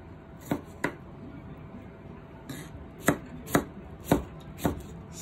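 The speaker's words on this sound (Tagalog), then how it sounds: "And then, magchachop ako ng tomato" Tomato chopped with a knife on a board for a Filipino-style cabbage salad: about seven crisp, close chops in irregular pairs and bursts, with quiet pauses between them.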